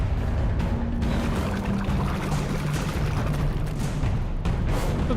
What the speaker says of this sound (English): A delightful flushing sound.